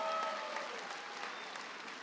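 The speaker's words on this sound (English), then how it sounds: "Let's give them another round of applause." Graduation celebration crowd giving another round of applause, a dense, even patter of many hands clapping at a moderate level that tapers slightly toward the end.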